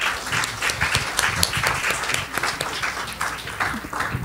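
Steady, fairly loud applause from a seated audience after an academic presentation on university overseas volunteer programs, many hands clapping at once with little variation.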